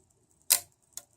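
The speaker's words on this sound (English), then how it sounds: "the shutter does work" Shutter of a Kodak No. 2a Folding Cartridge Premo camera firing, a crisp near click followed by a fainter second click half a second later in a quiet room.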